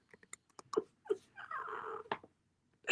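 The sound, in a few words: cat meowing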